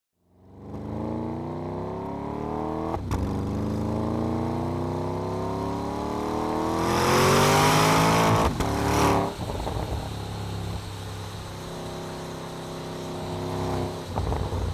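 A 2014 Porsche Panamera Turbo engine revs up in rising pulls, climbing to a loud close roar with a sharp surge in the middle, then settling to a lower steady drone.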